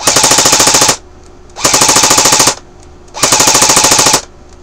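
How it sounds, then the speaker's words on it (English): Three loud, rapid full-auto bursts from a CYMA AK47 airsoft rifle with a MOSFET, about 12 rounds each, roughly a second of fast mechanical clatter, separated by short pauses. "it's giving me a full 12 round burst there"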